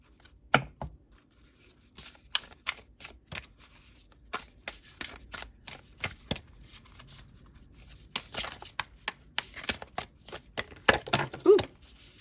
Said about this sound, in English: So I'm being asked now to pull a card for you from this deck.